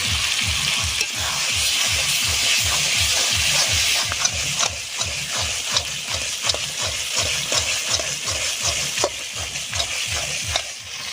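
Chicken offal masala with tomato stir-fried in a pan: steady loud sizzling with a rhythmic scraping of the spatula repeating about twice a second throughout.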